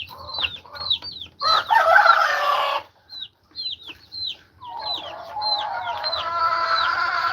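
Chickens on a small farm with hens clucking in quick bursts and roosters crowing loudly in two long calls, with busy close-up poultry chatter filling the gaps.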